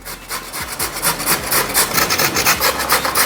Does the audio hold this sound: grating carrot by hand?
yes